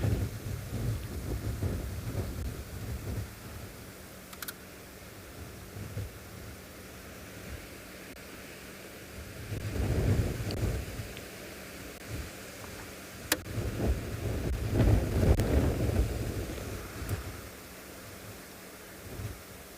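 Wind gusts buffet the microphone outdoors on a South African safari, producing low rumbling surges that swell and fade, with no voices.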